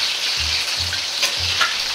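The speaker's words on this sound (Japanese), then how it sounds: "ここからだいたい3分くらい揚げていきます" Chicken pieces deep-frying in hot oil for a copycat Panda Express orange chicken, giving a steady, close crackling sizzle with low bubbling pulses.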